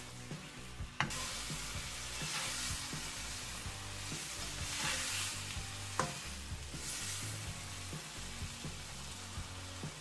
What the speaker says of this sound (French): On déglace avec la sauce soja. On laisse bien le tout mijoter pour que les saveurs se marient.